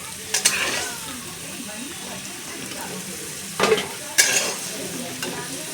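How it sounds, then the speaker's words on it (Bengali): Potato pieces frying in hot oil in a pan give a soft, continuous sizzle, broken by a few louder bursts of stirring and clatter from the utensil. "এরকম লাল লাল করে সুন্দর করে ভাজা করে নিতে হবে আলুটা।"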